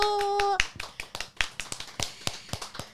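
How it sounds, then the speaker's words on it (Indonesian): A few people clap together in a quick burst of sharp, close hand claps on an Indonesian podcast set, opening after a short tone and thinning into scattered claps. "Tepuk tangan dulu."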